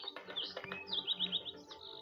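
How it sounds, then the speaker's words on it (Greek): Cartoon birds chirp in a Gormiti animated episode, giving a quick string of bright, high tweets over about two seconds against a soft background. "Αυτά τα πουλιά με συμπαθούν πολύ."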